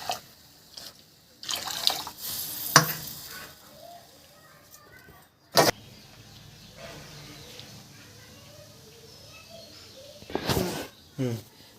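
Water is added to a spiced batter for Bengali phuluri in a village kitchen, heard as short splashing pours and drips in separate bursts against quiet background clatter.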